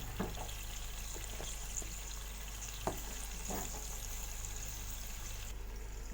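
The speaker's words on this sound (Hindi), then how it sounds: "अब इसको भी भूनेंगे हम इन गरम मसालों के साथ" Onions sizzle in a pan with garlic-ginger paste and whole garam masala spices, a steady soft frying hiss broken by occasional stirring clicks and scrapes, without talk.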